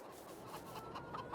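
Faint, soft clucking from several chickens in the video game Farming Simulator 22, quiet and continuous with a few sharper clucks near the end.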